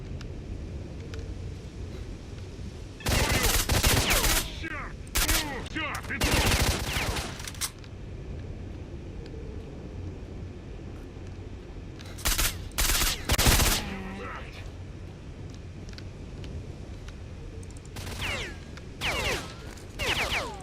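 Bursts of automatic gunfire in the video game Stalker: Shadow of Chernobyl, several loud volleys of rapid shots separated by quieter stretches of low background rumble, with occasional speech-like sounds faintly present.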